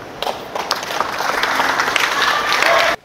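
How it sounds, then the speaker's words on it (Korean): Applause from an audience at a basketball event between an elite high school team and a top amateur club, a dense wash of many hands clapping that builds steadily for about three seconds and then stops abruptly. "박수 한번"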